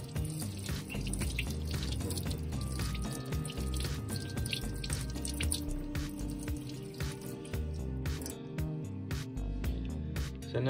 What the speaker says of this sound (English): let's put some water on it